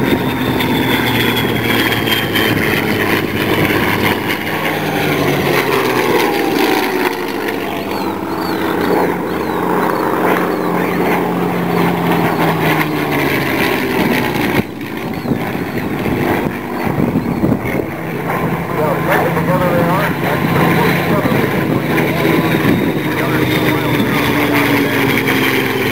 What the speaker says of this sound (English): begin the two aircraft ignition.